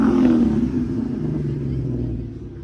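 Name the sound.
Lamborghini Huracan engine revving at car meet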